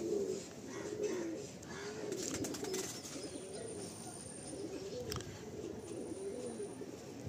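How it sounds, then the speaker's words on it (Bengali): Pigeons coo steadily in a low, throaty warble at a pigeon lot for sale in Kolkata, the calls overlapping and continuing throughout with faint background noise. "দেখুন পায়রাটা দেখুন বন্ধুরা"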